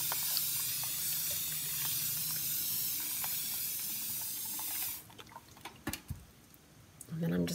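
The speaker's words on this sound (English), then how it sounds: "I'm gonna take my sprayer, my mister gun, and I'm gonna mist" A misting spray gun hisses a steady broadband spray of water onto a lampshade for about five seconds, then stops, leaving quiet handling noises and brief soft movements.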